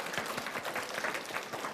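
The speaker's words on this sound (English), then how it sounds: "Let's give them a round of applause." An audience at a kids' program at the National Mississippi River Museum & Aquarium applauds in a brief, steady burst of clapping with no talk over it.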